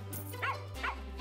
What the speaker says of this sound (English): I have a puppy. It barks at the bad thing.